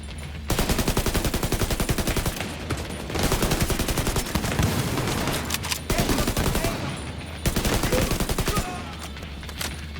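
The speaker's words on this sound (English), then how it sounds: "Shoot grenades." Grenades and rapid gunfire in The Division 2, heard as loud, dense bursts of shots in several long volleys separated by brief gaps.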